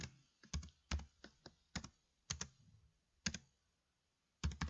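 Typing on a computer keyboard while entering a slide title in presentation software, with a run of sharp, close key clicks in irregular bursts and short pauses, no talking.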